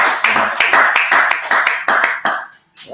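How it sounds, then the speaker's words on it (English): A small group claps in quick, regular bursts, each a sharp cluster of hand slaps close by, repeating in a loose rhythm before breaking off briefly near the end. "Yeah, clap it up."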